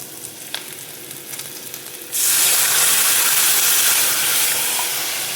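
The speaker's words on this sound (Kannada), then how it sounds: "ಇವಾಗ ಇದರಲ್ಲಿ ಈ ಮಜ್ಜಿಗೆ ಹಾಕೋಣ." A gentle sizzle of onions softened in a pan for kumbalakai majjige saaru suddenly bursts into a loud, dense hiss as buttermilk is poured in, then stays roaring steadily and fades slightly toward the end, close up.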